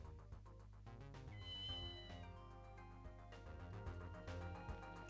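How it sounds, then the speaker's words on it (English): A black cat in the Ghost Trick: Phantom Detective game meows in a few drawn-out calls over looping background music at low volume. "A black cat."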